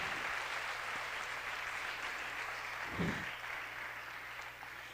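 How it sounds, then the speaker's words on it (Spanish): Soft, distant applause from a church congregation in Cali rustles evenly throughout, a faint wash of clapping over a low steady hum. "¿Cuánto le dan ese aplauso?"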